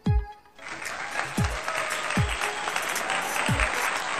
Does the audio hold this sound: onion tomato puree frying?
no